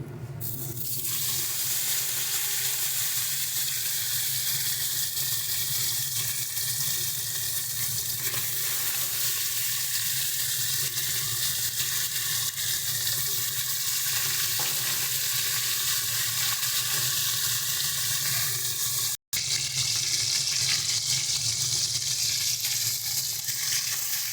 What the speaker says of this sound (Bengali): দেখো, তেলটা গরম হয়ে গেছে, এবার আমরা মাছগুলোকে ভেজে নেব।